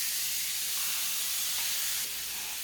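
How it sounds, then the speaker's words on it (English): Chicken searing in a smoking-hot dry pan gives a loud, continuous, close hiss with no breaks, steady for the whole short stretch. "I want it smoking hot because we're searing"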